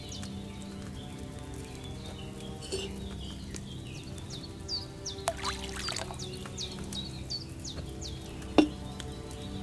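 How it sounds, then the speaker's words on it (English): Wine pours into a cauldron in the video game Kingdom Come Deliverance 2, a soft liquid gurgle over a quiet ambient bed with chirping birds and a few faint clunks. "you have to pour the right base into the cauldron"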